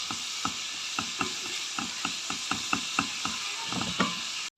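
Frying food being stirred in a pan with onions, a steady sizzle underneath regular scraping strokes of a utensil, roughly two or three per second, close by, ending abruptly.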